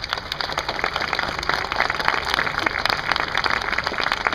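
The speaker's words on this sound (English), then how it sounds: "Please join me in a round of applause." A crowd gives a round of applause at the 25th Infantry Division's 3rd Brigade Combat Team deployment ceremony on an outdoor field, sustained dense clapping from many people at an even level throughout.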